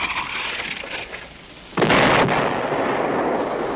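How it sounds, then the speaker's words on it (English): Artillery searching fire in a war TV drama, a sudden loud blast that bursts out and then rolls on as a sustained rumbling roar, heard without talk. "Sounds like searching fire."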